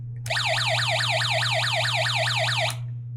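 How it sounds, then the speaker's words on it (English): A Snap Circuits electronic alarm wails in fast, repeating up-and-down sweeps for about two and a half seconds, loud and close, then cuts off abruptly. "switch it on, and we have an alarm."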